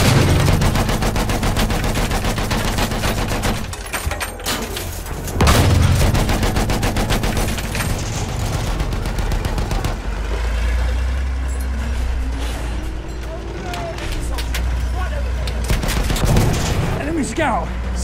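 Machine gun fire in the video game Battlefield 1, dense rapid rattling bursts mixed with engine rumble and battle noise, loud and close, with sudden cutoffs between sections.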